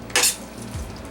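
Shrimp are stirred into a thick masala curry in a pan, with one sharp utensil scrape up close followed by a softer sizzling mix underneath.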